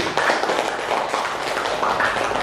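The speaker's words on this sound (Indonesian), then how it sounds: "Beri tepuk tangan untuk Pak Fajar." A classroom of students claps for a teacher, a dense, steady patter of many hands at moderate distance, sustained throughout with no clear talk over it.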